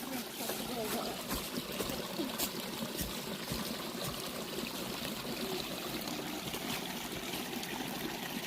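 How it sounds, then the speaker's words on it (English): Mine water trickling and splashing down through a collapsed stope, a steady close gurgling flow with scattered drips, continuous throughout, with a voice faintly present underneath. "The water goes down through and disappears."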